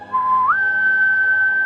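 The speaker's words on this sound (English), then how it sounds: "I whistle out just like a very faint," A faint, thin high whistle held as one steady note for over a second, rising slightly in pitch partway through, with no talk over it.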